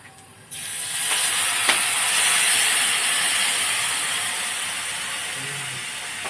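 A kitchen mixer grinder blending juice whirs at a steady high-pitched hiss and drone after starting abruptly, running continuously and fairly loud with no talk over it.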